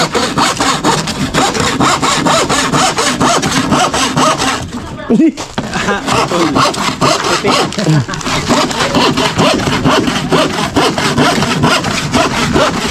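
A hand saw cuts through wood on a house-building site where beam forms are being made, with loud, rapid back-and-forth strokes that pause briefly midway and then resume steadily.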